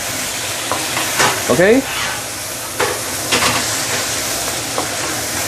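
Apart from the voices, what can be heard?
okra stir-frying with sambal, sizzling in pan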